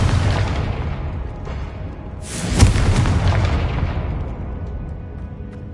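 A Confringo fire spell bursts in Hogwarts Legacy, a sudden loud explosive boom cutting through continuous rumbling background noise, then fading into a sustained roar.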